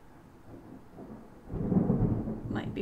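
Thunder rolls in as a low rumble, starting softly and swelling to a louder, sustained growl in the second half, with a faint higher sound near the end.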